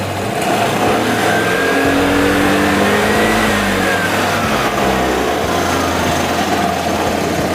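Vespa Primavera 150 scooter engine, with a faulty voltage regulator, revving loudly close by, rising and falling in pitch over a steady idle; no talk.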